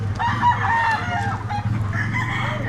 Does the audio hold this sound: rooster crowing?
yes